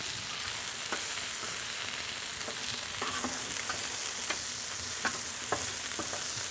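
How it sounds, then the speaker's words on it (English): Onions sizzle steadily on a Blackstone griddle, a constant frying hiss broken by sharp scraping clicks of a spatula stirring them, fairly close and with no talking. "I think those onions could use a stir, Nate."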